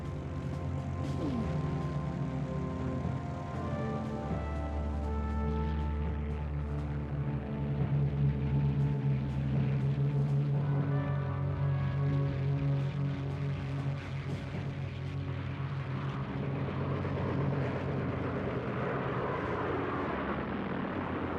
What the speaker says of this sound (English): The attacking aircraft swept aside the few fighters the Japanese carriers had left and savaged Admiral Ozawa's fleet